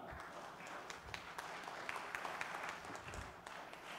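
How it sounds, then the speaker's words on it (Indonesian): Applause from an audience at a corporate auditors' forum keynote, a fairly quiet, distant patter of many hands clapping continuously with a few sharper claps standing out. "Ayo tepuk tangan buat kita semua."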